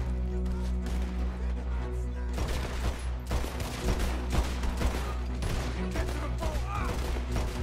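Rapid gunfire from a pistol in a video game, repeated bursts of sharp shots over a steady background hum, with voices talking in between.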